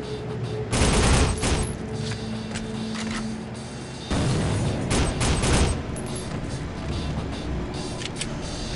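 Rapid bursts of gunfire in the shooter game Soldier of Fortune, two loud volleys of repeated shots separated by a quieter stretch of steady firing.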